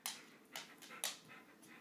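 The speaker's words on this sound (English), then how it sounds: "I'm a German Shepherd Bernese Mountain Dog mix, and I'm going to show a few of my talents." A German Shepherd and Bernese Mountain Dog mix pants close by in quiet, rhythmic breaths, about four quick exhalations in under two seconds.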